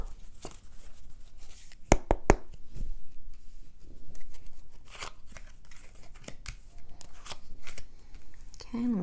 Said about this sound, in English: let me pull the cards